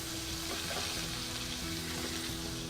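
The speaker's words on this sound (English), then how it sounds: "Make sure you sear all sides." Beef tenderloin sizzles and spits steadily as it sears in a hot pan, a constant close crackle with no voices.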